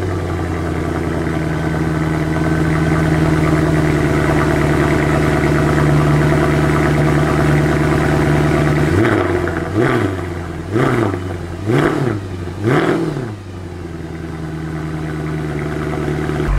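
A Mercedes C63 AMG with a stock exhaust idles loudly and steadily after a cold start, then gives four sharp throttle blips, each rising and falling, before settling back to idle.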